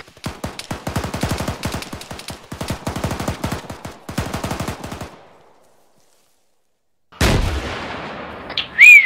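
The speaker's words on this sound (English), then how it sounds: "That's an RPG" A rocket-propelled grenade launches and detonates in the military video game Arma 3, a sharp loud blast breaking a short silence and trailing into a decaying rumble, preceded by sustained rapid automatic gunfire bursts close by.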